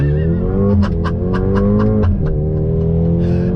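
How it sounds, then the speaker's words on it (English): A 2021 Mercedes-AMG GLA 35 launches hard from a dead stop, its engine rising through strong revs with quick upshift dips, loud and close throughout, with no talking. "once again from a dead stop, left foot on brake, hold down throttle, release, and we're up!"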